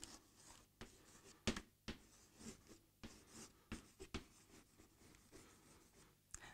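Pen scribbling on paper in short separate bursts, each stroke a quick soft scratch with pauses between, close and quiet, no voices.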